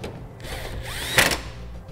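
Power tool snugging down bolts on a Rampage rear recovery bumper being installed on a 2012 Jeep Wrangler, a short close whirring burst that peaks briefly before easing off, with no talking.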